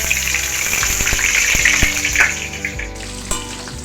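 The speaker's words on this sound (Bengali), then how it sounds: "পেঁয়াজটাকে খুব বেশি ভাজবো না হালকা ব্রাউন ব্রাউন ভাজবো" Chopped onion frying in oil with whole cumin and bay leaves for a mutton and potato curry, a loud close sizzle with spatula knocks and scrapes that fades toward the end.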